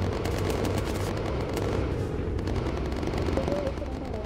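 Bomber rear gunner's turret guns firing in the Bomber Crew video game, a dense continuous rattle of rapid shots blended with explosions and engine noise, loud and unbroken throughout.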